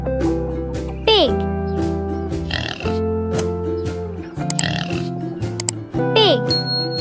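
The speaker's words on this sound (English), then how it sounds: "Pig." Pig oinking and grunting in a farm-animal setting, short nasal snorts repeated several times close up over a musical backing, with no speech.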